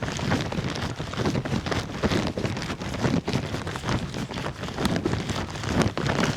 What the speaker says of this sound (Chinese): 又下起雨了